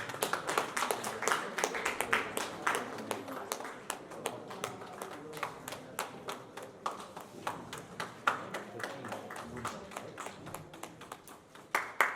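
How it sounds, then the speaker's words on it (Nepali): Audience at a press conference clapping through an agreement exchange, a long run of sharp scattered claps at moderate distance, steady for the whole stretch with no voices. "सम्झौता अवधिभर कृपया ताली बजाइदिनु होला"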